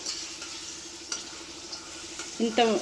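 Amla (Indian gooseberries) sizzle in a pan while being fried for pickle, a soft close crackle with occasional stirring clinks, and a brief voice comes in at the end.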